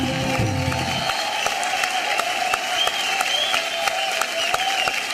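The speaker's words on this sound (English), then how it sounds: "let's have a huge round of applause for Shruti Pathak" Loud, sustained applause from an awards-show audience at the Zee Critics' Choice Awards 2023, honouring Shruti Pathak's performance; a brief trace of music fades in the first second, then dense clapping continues evenly throughout.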